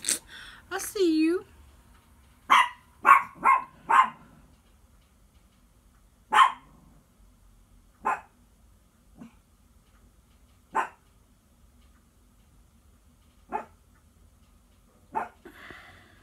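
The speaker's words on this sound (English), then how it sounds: "if you've ever had chihuahuas, you know what they're like. They bark and bark and bark." Small chihuahuas barking indoors in a series of sharp yaps, a quick cluster early on followed by scattered single barks, with a faint whine and occasional speech.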